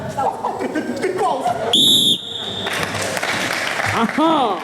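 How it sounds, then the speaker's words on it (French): A sharp, loud whistle blast of about half a second cuts through an improv theatre show, set amid lively stage voices, laughter and audience noise. "Sauvé par le sifflet, hein."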